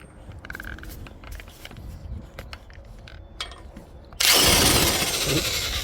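A power tool, likely an impact wrench, drives off the automatic transmission axle nut on a Honda D16Y5-engined car after scattered metallic clinks of tools being handled. A loud continuous burst takes over in the final two seconds.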